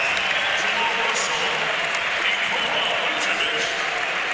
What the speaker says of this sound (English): Dirk Nowitzki hearing it from the crowd as he checks in